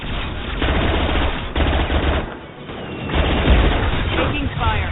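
Video game gunfire, rapid machine-gun bursts and shots rattling in clusters with brief pauses, loud and close, with voices talking over the combat.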